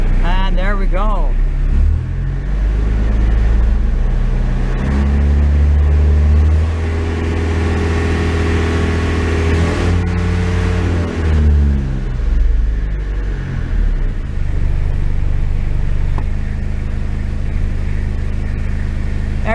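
A Toyota Hilux engine runs in fifth gear with a steady low rumble and shifting engine tones, heard from inside the cab at close range under a faint voice.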